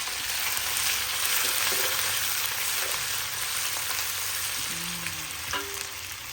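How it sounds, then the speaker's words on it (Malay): Freshly pounded spice paste of upak tepus, anchovies, garlic, shallots and chili, made for a cassava leaf dish, hits hot oil in a wok with a loud, continuous close sizzle and occasional stirring scrapes. "Oke, minyak kita dah panas. Kita masukkan bahan yang telah kita tumbuk tadi."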